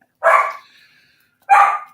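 A dog barks twice outdoors, two sharp loud barks about a second apart with quiet between them.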